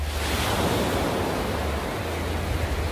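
Ocean waves wash onto the sandy shore of Soboc Bay in Catanduanes, a steady, loud, broad rush of surf with heavy wind buffeting the microphone and no voices.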